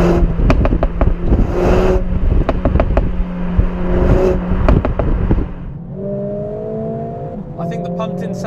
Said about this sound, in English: much more in terms of pops and bangs than we got in the European ones